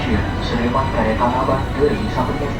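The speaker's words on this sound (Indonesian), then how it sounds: "Sesaat lagi kereta akan tiba di stasiun transit fondasi yang ke arah stasiun Jatinegara dari stasiun Manggarai." A commuter train rumbles steadily toward a transit station between Manggarai and Jatinegara stations, with a continuous low rolling drone and faint murmuring voices throughout.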